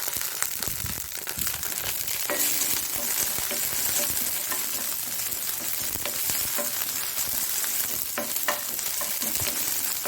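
Cumin seeds crackle and fry in a little oil, a dense, continuous close sizzle with occasional stirring scrapes and crisp pops, steady in loudness throughout with no voices.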